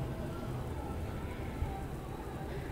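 Fuljhuri pitha frying in hot oil gives a soft, continuous crackling sizzle, steady and fairly quiet throughout, with one small pop.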